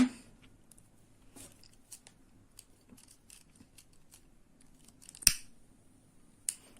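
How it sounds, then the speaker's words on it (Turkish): Scissors snip through nylon crochet yarn in a quiet room, with faint small clicks and one sharp, clear cut near the end. "Daha sonra ipimi keseceğim buradan."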